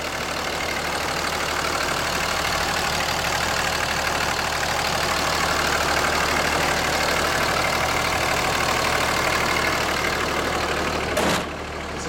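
A 2006 Dodge Ram 2500 Laramie 4x4 with a 5.9L Cummins diesel idles with a steady, even rumble that runs unbroken. A brief click sounds near the end.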